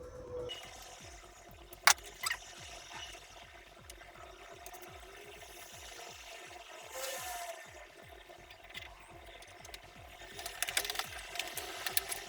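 Sewing machine stitching over a milk carton case for a simple pencil case, a fast steady run of needle strokes with a few sharp clicks, close and fairly quiet, with no talking.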